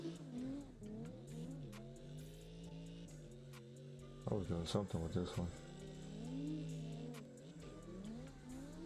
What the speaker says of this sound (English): If you've ever used this car, you know that the sound of it is terrible.